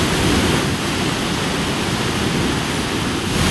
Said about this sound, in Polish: Dźwięk zburzonego oceanu potrafi być bardzo przerażający i nie chodzi o ten szum fal, który teraz słychać